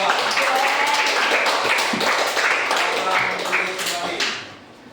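Classroom group claps for the second student group after its presentation, a busy patter of hands that holds steady and then fades out near the end, with faint voices underneath.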